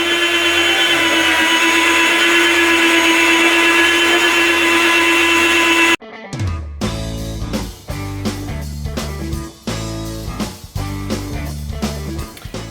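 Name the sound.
meat slicer cutting pepperoni thin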